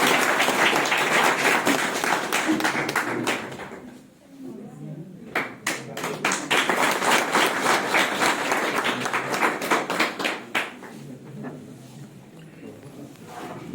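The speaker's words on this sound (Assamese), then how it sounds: "সকলোৰে এটা জোৰদাৰ হাত চাপৰি।" Loud, dense clapping from a hall audience at a Dibru College farewell honouring a retiring non-teaching staff member, dipping briefly before surging again into sustained applause, with voices mixed in.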